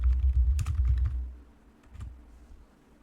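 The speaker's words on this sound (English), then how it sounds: "Let's type in planner cover into the search bar." Rapid keystrokes on a computer keyboard while entering a search term in a design web app, a dense burst of clicks in the first second, then a short lone tap, fairly close and alone with no talk.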